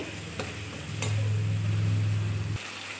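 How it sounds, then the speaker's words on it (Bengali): Spice paste with salt and turmeric is stirred in a pan for a vegetarian pointed gourd gravy, giving a close scraping and sizzling with a low steady hum and a couple of sharp ticks. "স্বাদ মতো নুন, হলুদ দিয়ে মশলাটাকে আমি ভালোভাবে কষিয়ে নেব"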